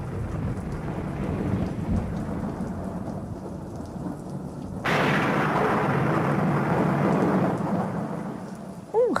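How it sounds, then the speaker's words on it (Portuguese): A thunderstorm rumbles with steady heavy rain, then a loud crack of thunder bursts in midway and rolls on over the downpour, with no voices. "Um relâmpago correu pelos ares, seguido por um trovão mais forte que os anteriores"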